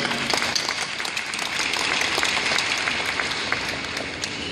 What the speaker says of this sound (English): Royce West, hand clap.